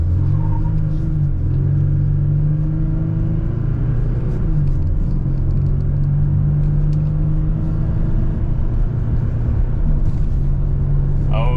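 A diesel Chevrolet Colorado pickup accelerates hard from a standstill to 60 mph, its engine drone loud and steady with a low rumble throughout and a brief shift dip midway.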